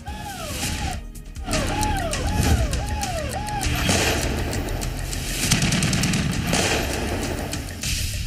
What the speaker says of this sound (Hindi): गोलीबारी,